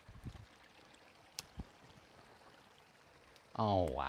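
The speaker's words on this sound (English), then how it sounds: "Can you all hear this water running?" A seasonal creek runs steadily on rural land, its faint, even wash of flowing water heard close by, with a few soft knocks and a brief voice breaking in near the end.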